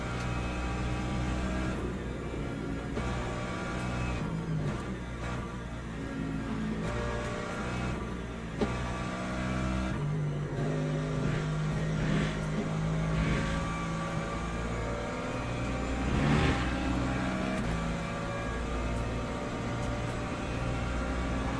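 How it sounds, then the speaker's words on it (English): Hypercar engines racing in the Le Mans Ultimate sim, a continuous layered engine drone with shifting revs from several cars running together, steady and moderately loud with no talking. "We got like 5 hypers racing each other coming through here."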